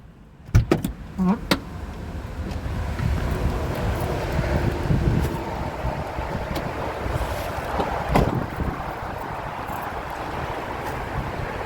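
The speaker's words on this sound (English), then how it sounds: "And it's windy." Steady rushing wind noise at a park buffets the microphone throughout, with a few sharp knocks and rumbles near the start and another gust around the middle.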